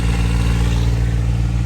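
A 550 hp Cummins diesel in a Kenworth W900 truck idles steadily right after firing up, a loud, close, even rumble with dense low harmonics and a faint clatter throughout.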